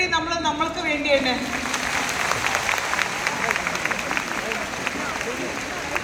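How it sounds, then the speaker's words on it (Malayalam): Audience applause at a stage event swells into a dense, steady wash of clapping after a voice speaks briefly at the start, then carries on evenly to the end. "ഒരു വലിയൊരു കൈയടി നമ്മൾക്ക് വേണ്ടി തന്നെ"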